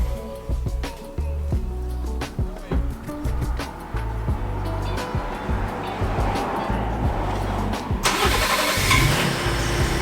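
A Ford Raptor pickup truck engine rumbles and idles up close with clunks and rattles, then revs louder near the end as it pulls into a garage.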